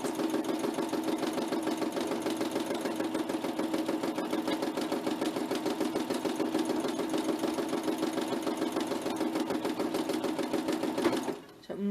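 A domestic sewing machine stitching free motion, its needle running in a steady, fast, continuous hum with a rapid mechanical rhythm close by, then stopping abruptly near the end.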